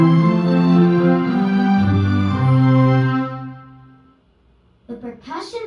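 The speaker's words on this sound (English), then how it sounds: "They move their bows across their strings to make beautiful music" Bowed string instruments play a short, sustained melodic phrase of rich, layered tones for about four seconds, loud and close, before fading out. A voice begins briefly at the end.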